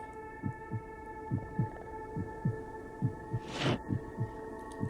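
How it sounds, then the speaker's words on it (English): A slow, steady heartbeat sound effect from a film thumps in paired beats over a low electrical hum, with a brief burst of noise partway through. "I love that heartbeat."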